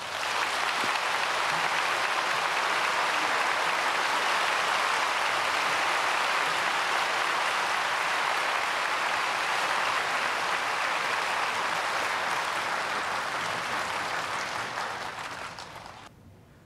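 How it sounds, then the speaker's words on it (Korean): A church congregation welcomes Pastor Jonathan L. Walton, president of Princeton Theological Seminary, at a worship service with long, steady, dense applause that holds evenly before tapering off near the end. "목사님 나오실 때 박수로 환영하겠습니다."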